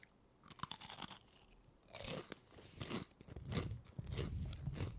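Crunchy food is bitten and chewed up close, with sharp crackling crunches in irregular bursts, a few spaced bites followed by rapid chewing, and no talk.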